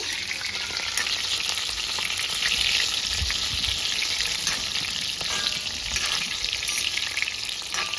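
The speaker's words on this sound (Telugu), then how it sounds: "ఇంకా కొంచెం ఫ్రై కావాలి" Brinjal frying in a pan, a dense, constant close sizzle and crackle that holds evenly loud throughout with faint stirring underneath.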